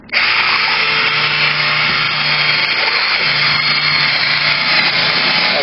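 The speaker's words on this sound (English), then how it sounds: "I have a mixer that goes into a drill. Cordless." A cordless drill fitted with a mixer attachment stirs a batch of homemade laundry detergent, a loud, steady motor whine with a churning, sloshing rasp that runs continuously from start-up, close and alone.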